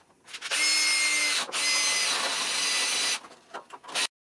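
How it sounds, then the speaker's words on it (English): A drill whines steadily for about three seconds, close up, boring a hole through the end of a plastic cap, followed by a few short bursts as it finishes. "I'll just drill a hole through the end of this cap here"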